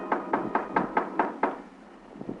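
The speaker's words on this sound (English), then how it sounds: "we were knocking on the door of the dingy room next to the poultry shop" Seven or eight evenly spaced knocks on a door in a radio drama, steady and fairly close, followed by a short pause and a couple of softer knocks, with no voices.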